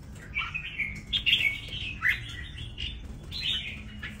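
A young red-whiskered bulbul, about a month and a half old, gives a run of bright chirps and short tweeting calls. The calls are fairly close and irregularly spaced, with a soft background hiss.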